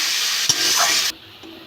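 Potatoes hit hot spiced oil for a pangas fish curry and are stirred, giving a steady loud sizzle with a scrape partway through, then the frying drops away abruptly to a quiet hiss.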